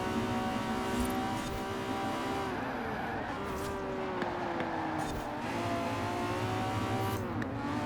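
A Lamborghini Diablo GTR driven hard in the racing game Forza Horizon 4 roars continuously, its engine pitch rising and dipping through gear changes and corners with faint tire noise, no talking.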